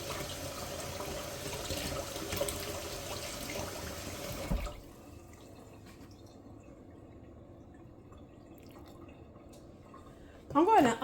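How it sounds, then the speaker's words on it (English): Water trickles and drips close by as it is poured into powdered sugar to make a glaze, a steady fill that stops partway, leaving quiet room tone and a short final clatter. "Next, I'm going to use about 1/8 cup of water."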